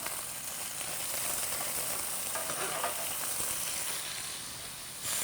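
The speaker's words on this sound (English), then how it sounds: "they're sizzling away, hopefully getting some color" Food sizzles steadily in hot oil in a skillet, a close, constant crackling hiss with no talking.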